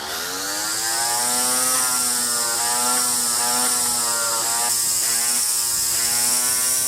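A small, cheap battery-powered electric lawn mower motor runs steadily at close range, a loud whirring whine with a steady pitch that holds throughout.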